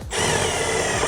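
A power screwdriver drives in a screw on a 2006 Chevy Silverado door armrest, a short, close, continuous motor whine that starts abruptly and runs for about a second.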